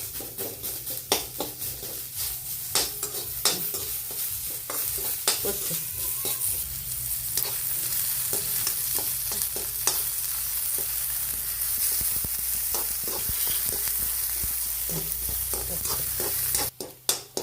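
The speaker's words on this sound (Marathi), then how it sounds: "असा कांदा करपूस भाजून घ्यायचा" Onion fries in oil in a pan for amti under a continuous close sizzle, with frequent scraping stirs and clinks of the utensil against the pan throughout and no speech, ending in a few louder knocks.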